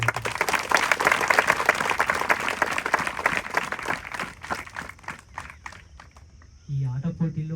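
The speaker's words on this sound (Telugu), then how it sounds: "ఒకసారి గట్టిగా చప్పట్లు కొట్టాలి" Audience applause at a games competition ceremony: dense, loud clapping for about six seconds that gradually thins out, then a voice starts speaking at the end.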